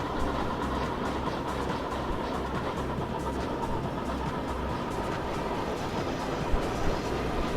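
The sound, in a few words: trains running in video game Chris Sawyer's Locomotion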